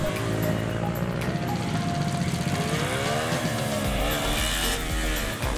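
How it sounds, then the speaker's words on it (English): A Honda VTR250 motorcycle ridden on a moto gymkhana practice course in Japan, its engine note rising and falling steadily, loud and close throughout with no voices. "This is me riding VTR250 by Honda."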